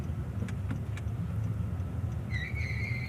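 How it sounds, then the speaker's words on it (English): Friday afternoon road traffic, a steady low rumble of car engines passing nearby, with a brief high-pitched squeal near the end. "Friday afternoon traffic."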